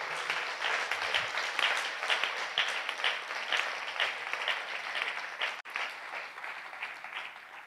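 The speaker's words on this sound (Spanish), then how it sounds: "Vamos a dar un fuerte aplauso a Dios" Loud, sustained applause from a large church congregation, a dense wash of clapping that holds steady for several seconds without letting up.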